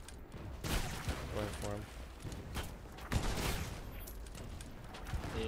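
Cannon fire and gunshots in the pirate ship video game Blazing Sails sound as repeated booming blasts and crackling volleys at moderate volume, mixed with a player talking over them.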